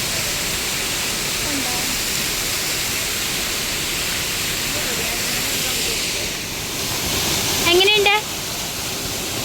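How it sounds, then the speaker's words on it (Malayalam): A small waterfall on the mountain trail to Kedarnath pours with a steady, broad rushing hiss close by, and a voice briefly asks a question near the end. "അപ്പോൾ ഈ കാണുന്നൊരു ചെറിയ വെള്ളച്ചാട്ടം"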